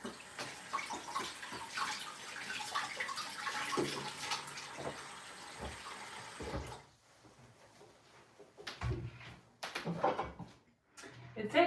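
Tap water runs steadily over something being washed in a kitchen sink while making kimchi pancakes, a broadband wash for about seven seconds, then a quieter gap and a few short splashes and bursts near the end.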